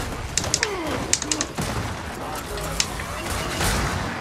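Quick bursts of rapid gunfire crack in Gears of War 4 among scattered sharp shots, with someone talking and exclaiming over the shooting.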